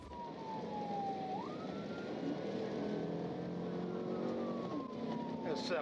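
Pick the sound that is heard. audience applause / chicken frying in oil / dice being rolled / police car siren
police car siren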